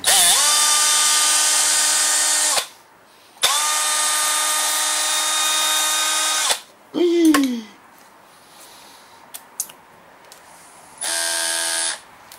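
A power drill whirs in long high-pitched bursts during a repair on a Craftsman 179cc 22-inch snow blower. It runs for two multi-second stretches, then gives a short dropping chirp, a few faint knocks and a final brief spin.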